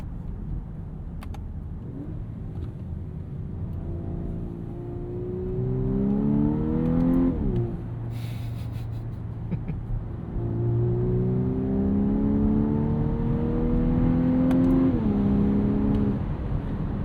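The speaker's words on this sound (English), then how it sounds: "I want to show you guys what this thing sounds like with the piped-in engine noise" A 2024 Volkswagen Atlas Cross Sport SEL Premium R-Line in Sport mode, with its 2-liter engine note piped into the cabin, revs up smoothly through two climbing acceleration pulls, heard from inside the car with road noise beneath.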